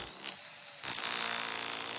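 A Harbor Freight rotary hammer cuts into a concrete shop floor, a harsh, steady grinding roar that starts abruptly partway through and runs loud and close to the end after a quieter stretch.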